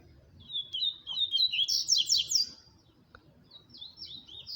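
A white-chested coleiro songbird sings nearby in short bright chirping phrases, a quick trill then a softer repeated call after a pause, over faint background rumble.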